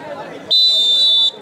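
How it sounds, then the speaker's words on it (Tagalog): A single loud electronic buzzer sounds for under a second, a flat harsh tone cutting in abruptly over a murmuring background, then stopping. "Okay, buzzer!"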